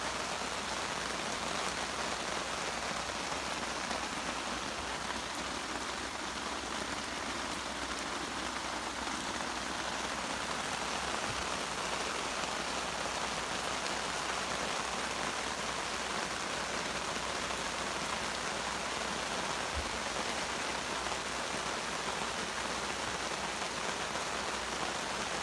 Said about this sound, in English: it's really nice being able to sit out here and just listen to the rain.